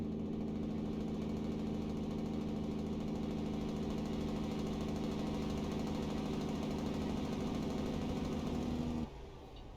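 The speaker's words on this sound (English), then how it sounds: "That loud-ass Jake brake in there" A truck pulling triple trailers in American Truck Simulator uses its Jake brake. A loud, steady, throbbing engine drone holds for about nine seconds, then drops off abruptly to a lower rumble.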